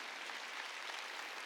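Church congregation applauding during a Sunday worship service, a steady, dense wash of clapping at moderate distance that holds evenly throughout without pause.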